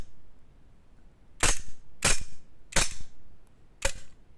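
Four sharp, crisp shots from a Parabellum Sig Sauer P320 PRO Wilson Combat custom airsoft pistol, fired at uneven intervals of roughly half a second to a second, close and loud against a quiet background.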